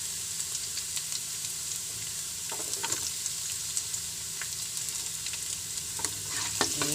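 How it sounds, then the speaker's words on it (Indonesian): Ginger and garlic stir-fry in a pan with a steady sizzle and hiss, broken by intermittent scraping and clinking strokes from stirring. "Oke, goreng-goreng, tumis-tumis bagi dia layu."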